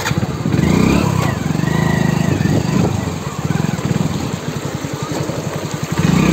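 A superbike's motorcycle engine idles and pulses steadily as it rides into water, a loud, close, continuous throb with faint revving swells throughout.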